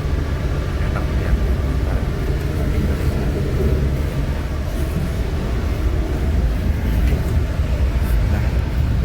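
The Pangandaran panoramic train runs steadily, a continuous low rumble and rattle of wheels and carriage heard from inside, with faint talk in the background.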